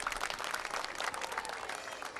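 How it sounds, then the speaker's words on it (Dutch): Crowd applause and clapping at a children's flower parade carry on steadily for a couple of seconds, dense and fairly close, with no pauses. "Als jullie even zwaaien, dan gaan ze nog harder klappen."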